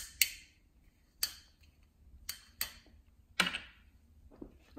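Sharp plastic clicks and cracks of a bottle of Waiwera Artesian still water being twisted open, four or five distinct snaps spaced about a second apart, close and fairly quiet.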